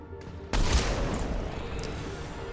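Mass Effect 3 gunfire erupts in a loud, dense burst of shots that rolls into a sustained roar of combat noise, close and heavy.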